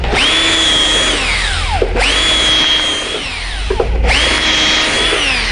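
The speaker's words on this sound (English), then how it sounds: "I'm going to take a 3/8 drill bit." A power drill with a 3/8 drill bit whines loudly, spinning up and winding down in three repeated bursts while marking hole divots for a fan assembly, close and with no talking.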